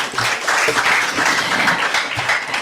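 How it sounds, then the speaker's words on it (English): An audience gives a dense, steady round of applause for event sponsors. The clapping stays full and even throughout with no speech. "Round of applause for all our sponsors, please."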